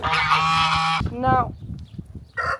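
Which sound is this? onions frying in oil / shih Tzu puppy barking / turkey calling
turkey calling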